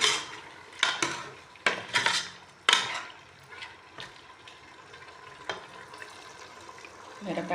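Chicken curry with tomatoes being stirred in a metal pot, the spoon clanking against the sides in several sharp scrapes and knocks over a soft sizzle of frying.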